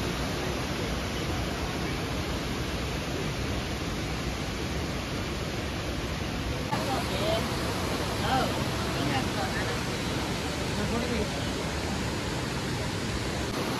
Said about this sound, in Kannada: ಜೋರಾಗಿ ನೀರು ಹರಿತಿದೆ